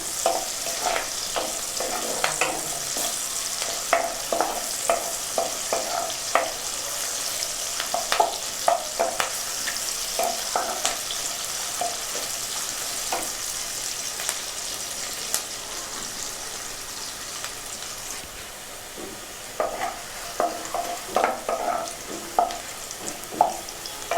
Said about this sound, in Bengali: আমি এই পেঁয়াজটা হালকা করে ভাজবো, বেশি কালার করব না।